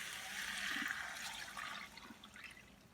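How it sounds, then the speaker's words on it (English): Four cups of milk are poured into a pot of radish cream soup on low heat, making a soft, gurgling liquid splash that runs for a few seconds and slowly tapers off, fairly quiet and with no talk over it. "but we will add 4 cups of milk"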